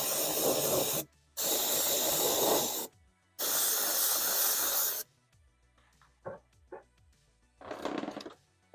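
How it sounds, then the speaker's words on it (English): Neon green paint hisses from a spray can onto an RC car body in three long, loud, steady bursts separated by short pauses, followed by faint handling clicks and a softer final burst. "So let's get a couple of coats of this green on here"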